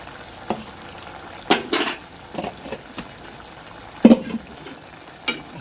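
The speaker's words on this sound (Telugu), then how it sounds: "ఒకసారి కలుపుదాం" Spiced mutton boti fry is stirred in a pan, with irregular metal spoon scrapes and clanks over a low, steady sizzle, close and fairly loud.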